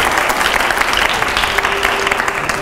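Audience applause at a live Hindi televised event with Kumar Vishwas, dense steady clapping from a crowd throughout, loud and close with no pauses.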